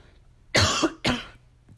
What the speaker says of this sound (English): I'm sorry, because I keep coughing and shit.